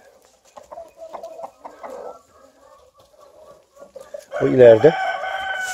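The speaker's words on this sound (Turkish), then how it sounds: "bu Sussex horozları 4 kiloya kadar çıkar" Sussex chickens in a farmyard cluck softly in short scattered calls, then a rooster lets out a loud, close crow near the end, with someone briefly speaking.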